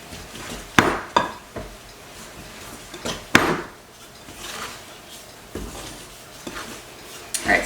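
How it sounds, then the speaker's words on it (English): A utensil used in place of a spatula works flour into batter in a mixing bowl, giving scattered clinks and scrapes against the bowl with a few sharper knocks, with no talking. "I'm going to use this instead of a spatula to try and mix the rest of this flour in."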